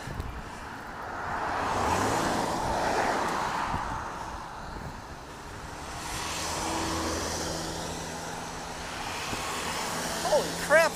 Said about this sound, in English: what's with all the traffic today?